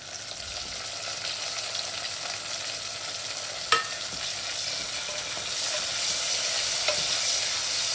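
Tomatoes and onions cook in gingerly oil with a steady, even sizzle, close and fairly quiet, with one brief clink of a utensil partway through and the frying growing slightly brighter toward the end.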